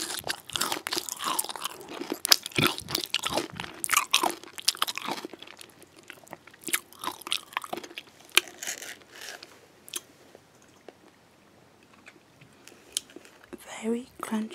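Close-up crunchy chewing of Ritter Sport chocolate with cornflakes, rapid crisp bites and crunches at first, thinning to softer sporadic chewing, with quiet whispered talk between.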